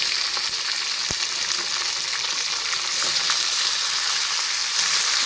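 Hot oil sizzles steadily for a tadka tempering while Hyderabadi tomato chutney is being made, giving a loud, continuous frying hiss with no voices, broken by a single sharp tap near the start.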